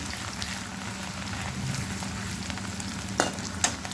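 Chopped medium onions and ginger sizzle steadily in hot oil for a saag tadka, a continuous dense frying crackle with a couple of sharper sputters or utensil clicks near the end, close by and with no talking.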